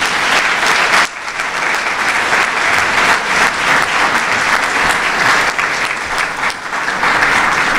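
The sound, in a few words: audience applause for students and teachers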